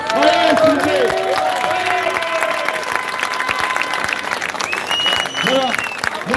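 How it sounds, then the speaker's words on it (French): Crowd applause for imprisoned comrades at an outdoor citizens' rally in Toulouse, steady clapping running throughout with talk and a tonal, siren-like sweep over it. "faire un applaudissement pour tous nos copains prisonniers"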